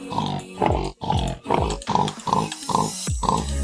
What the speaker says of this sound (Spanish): Suena como un cerdo.